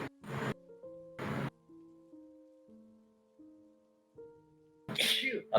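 A person sneezes several times in short, breathy, forceful bursts, close to the mic, with soft tonal music playing in the gaps between them.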